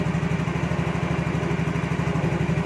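A motorcycle, repaired after its battery kept going flat, idles close by with a steady, even low throb that holds a constant rhythm throughout.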